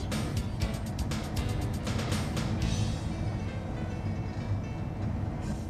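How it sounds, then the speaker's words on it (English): A train rolls past with rapid rhythmic clacking of wheels over joints, loudest early on and then settling into a steadier rumble. "we have to stop while another train passes in front"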